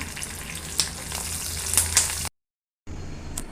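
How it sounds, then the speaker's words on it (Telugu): Mustard seeds, cumin, lentils and dried red chilies crackle and sizzle in hot oil close by for a tempering. There is a brief cut to silence partway through, then the frying returns. "తాలింపు పెడుతున్నానండి ఆవాలు జీలకర్ర మినపప్పు పచ్చిపప్పు ఎండుమిరపకాయలు వేసాను"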